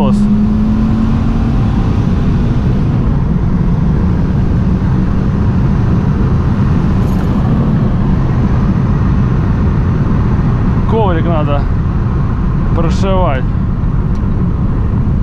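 A Lada Vesta Turbo engine drones steadily under throttle for the whole stretch, loud and close, with a few brief rising tonal chirps near the end and people talking over it.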